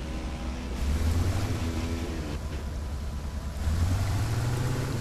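Boat motor in The Crew 2 racing game, a steady low engine drone with water wash, swelling louder twice, alone without talk.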